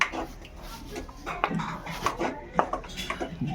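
Egg curry ingredients with onion, ginger and garlic are stirred in a pan, giving irregular scraping and clinking of a utensil against metal, fairly close, under a soft voice.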